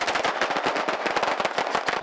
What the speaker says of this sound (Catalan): o, més aviat, traca de sortida.